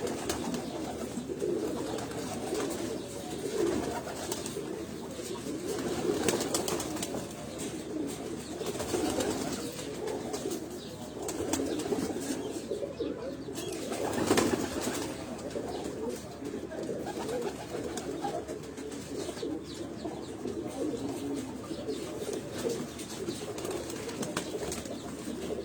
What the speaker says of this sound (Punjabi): ਆ ਜੀ ਮੋਤੀਆਂ ਵਾਲਾ ਕਬੂਤਰ ਤੁਹਾਨੂੰ ਦਿਖਾ ਰਹੇ ਹਾਂ ਜੀ